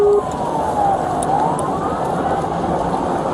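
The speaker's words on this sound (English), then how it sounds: "he activated his emergency lights and sirens" A police car siren during a high-speed pursuit wails steadily with a sweeping tone over loud road and engine roar, close and continuous throughout.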